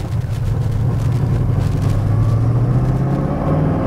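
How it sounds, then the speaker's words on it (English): A 1966 Chevrolet Chevelle SS396 big block with a 4-speed gives off a deep, continuous exhaust rumble close by, swelling slightly as it pulls along, with no talk over it. "Listen to that exhaust."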